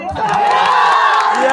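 A crowd at a lively Bhojpuri stage show cheers and whoops loudly and continuously, a dense roar of voices with possible clapping mixed in throughout.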